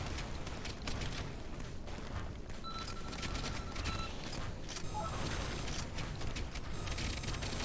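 Cannon fire aimed at bugs in the video game Gearbits, a dense continuous barrage of booming gunfire and mechanical clatter with no clear gaps, loud and close throughout.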